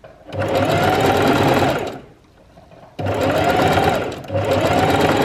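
A sewing machine stitching the widest zigzag through fabric in three loud, close, continuous whirring runs, broken by a short pause after the first and a brief dip near the end.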